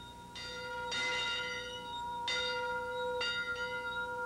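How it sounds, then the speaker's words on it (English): An old farm bell rings out several times with resonant metallic strikes, each one leaving a long shimmering hum. The strikes come at uneven intervals and sound moderately distant. "Oh, this is the famous bell."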